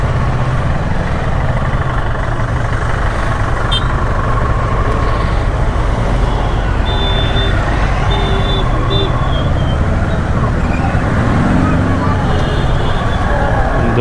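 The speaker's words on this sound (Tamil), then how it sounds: "இந்த ஊரில் எவ்வளோ டிராஃபிக்காக இருக்குது அது." Town road traffic heard from a motorcycle moving at low speed on a monsoon ride in Maharashtra, with a steady loud rumble of engines and passing vehicles and a few high horn-like tones, continuous throughout.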